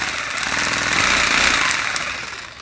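A homemade paint shaker rattling a clamped paint can, a loud, continuous rapid buzzing vibration that swells slightly in the middle and holds steady throughout.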